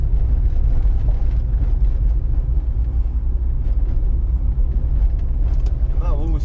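Car turning at steady speed in third gear on a city driving exam route, a loud continuous engine and road rumble filling the whole stretch, with a voice talking over it.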